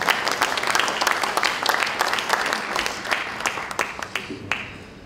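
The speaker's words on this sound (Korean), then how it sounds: "큰 박수로 맞아주시기 바랍니다." Audience at a Democratic Party lawmakers' workshop breaking into sustained applause, a dense wash of many hands clapping that stays loud, then thins toward the end into scattered individual claps.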